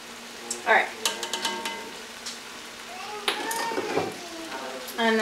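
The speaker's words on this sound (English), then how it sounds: "And then I'm just gonna stir it all up. Get everything coated with flour." A spoon stirs flour into a vegetable mixture in a pot for chicken pot pie, making scattered scrapes and clinks up close, with a voice talking briefly.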